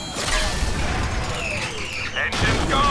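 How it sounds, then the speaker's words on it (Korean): A plane's engine blows up in the GTA 5 video game, a loud, dense crash of explosion and debris with rumbling low end that fills most of the clip, broken by a brief dip before surging again. "자, 엔진이 폭발했다."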